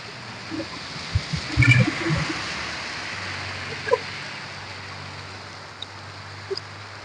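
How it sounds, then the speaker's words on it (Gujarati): Steady, dense hiss of heavy rain pouring down, with a few soft knocks near the start and a low hum underneath. "જોરદાર વરસાદ"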